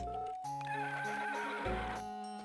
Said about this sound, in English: I named the horse Bella